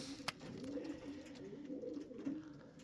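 Racing pigeons murmur and coo softly outside a loft in Lithuania, a low continuous rolling warble with one brief sharper click near the start.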